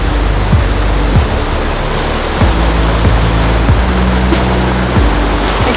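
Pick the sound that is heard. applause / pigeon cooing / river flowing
river flowing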